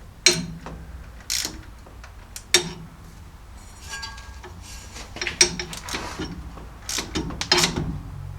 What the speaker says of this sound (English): So I'm just going to tighten it up, and then I'll put some tension on this and then finish tightening it down.